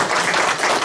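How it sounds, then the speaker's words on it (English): A lecture audience gives a brief, dense burst of clapping for a speaker on religious thought, close and fairly loud with no talking. "Let's give Wayne one more round of applause."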